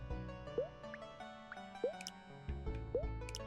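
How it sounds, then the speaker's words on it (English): Water splashing and dripping onto the ground in the video game Danchi Days, a few distinct wet drops and plops landing in quick succession over a low background hum, close and fairly quiet. "Cool ground splashing."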